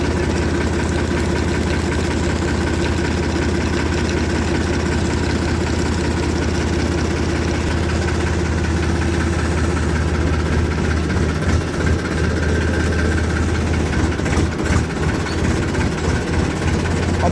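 Farm tractor engine idling steadily and close by, a continuous low rumbling drone with a faint knocking pulse and vibration, running unbroken with no talk over it.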